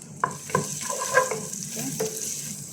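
Cumin powder added to a vegetable curry frying in a pan, with a steady hiss of oil and a few soft stirring scrapes and taps.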